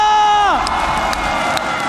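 An esports arena crowd at a Mobile Legends league match cheers and whoops loudly, a sustained roar with shouts rising over a falling tonal sound effect at the start.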